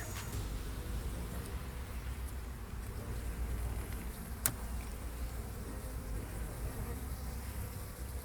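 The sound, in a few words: honey bees buzzing at hive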